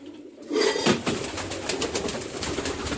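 Pigeons in a loft coo softly among the rustle and flutter of wings. The sound is close and fairly loud and starts suddenly after a brief quiet moment.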